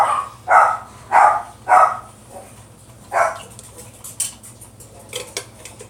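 Dogs barking at home, several loud, close barks in a quick group followed by another bark and fainter clatter of dishes or utensils nearby.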